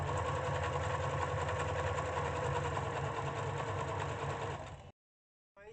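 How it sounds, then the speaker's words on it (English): A sewing machine runs steadily at a zigzag setting, stitching the seams of wide-leg trousers made from a scarf. It drones loudly and continuously, then cuts off abruptly near the end. "then you set your machine to the zigzag and continue with the zigzag"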